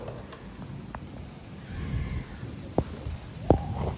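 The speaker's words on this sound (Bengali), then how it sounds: "প্রচন্ড বৃষ্টি হচ্ছে" Heavy rain falling outside behind a closed window, a soft muffled steady hiss with a few sharper drip-like taps, faint and distant in a quiet room.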